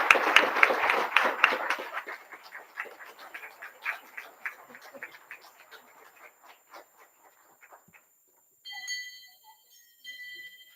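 Warm audience applause at a board of education public session, honoring volunteers of the month. The clapping starts dense and close, then thins into scattered claps before fading out.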